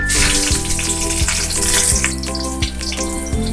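Cumin seeds and green chilies hit hot mustard oil in a pan, giving a loud, close, continuous sizzle with crackling spatter and a few soft knocks.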